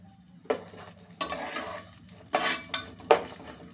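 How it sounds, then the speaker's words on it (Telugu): Dry fruits fry in hot ghee in a pan for sago payasam, a spoon stirring in several distinct scraping strokes over a light, close sizzle. "నెయ్యి వేడి చేసుకొని దాంట్లో డ్రై ఫ్రూట్స్ అన్నీ ఫస్ట్ వేయించుకోవాలండి."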